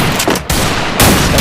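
Loud, close gunfire from a Desert Eagle pistol in the Free Fire mobile game, with dense overlapping bursts of shots and a brief lull before the firing resumes.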